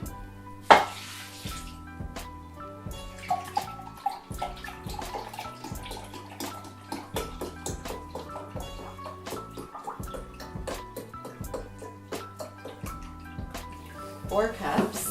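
Water pours steadily into a cooking pot while vegan lentil soup is made, a continuous splashing stream running under background music and a talking voice.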